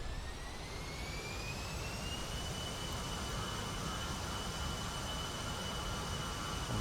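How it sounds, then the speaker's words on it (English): A Fairchild Republic A-10C II's jet engines wind up to full takeoff power, a steady loud roar with rising turbine whine that climbs and then holds a high pitch throughout. "let's see if we can see the engine note change"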